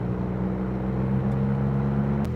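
A 620-horsepower Maserati cruises in GT mode, its engine holding a steady, close low drone under an automatic gearbox, with a faint tick near the end.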